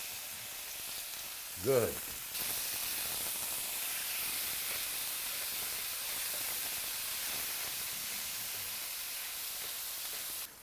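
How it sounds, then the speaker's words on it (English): Beef pieces for stroganoff sizzle steadily in a hot pan, a continuous broadband hiss that swells after a brief clatter near the start and carries on to the end, with a short spoken word early on. "now you see the meat start to cook"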